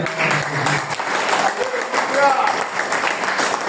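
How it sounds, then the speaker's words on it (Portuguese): Church congregation applauding together, steady dense clapping throughout with voices and some singing or calling mixed in underneath. "Aplauda a Deus."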